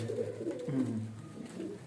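Breeder pigeons at a loft give low, bubbling coos close by, a continuous warbling murmur with rising and falling swoops and no voices.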